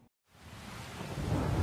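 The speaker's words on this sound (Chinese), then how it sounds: "但夏日这最后一场雷雨仿佛有意在人间逗留" A thunderstorm with heavy rain, used as a sound effect in an audiobook, rumbles in after a brief silence and builds steadily into a dense, roaring downpour. No voices are heard.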